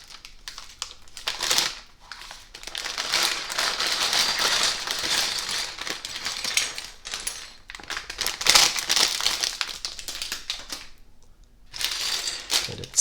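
Small plastic bags of Lego Star Wars Darth Vader pieces are torn open and handled, giving sustained close crinkling and rustling with scattered sharp clicks of pieces and a brief quieter pause.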